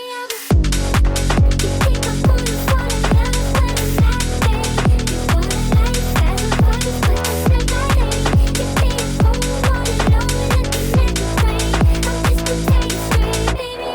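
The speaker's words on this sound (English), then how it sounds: "Here's a preview of the bass we're going to be going over this video." Speed garage bass built in Ableton: a loud, driving bassline with a steady pumping rhythm of rapid repeated notes and drums, continuous for the full length with no talking.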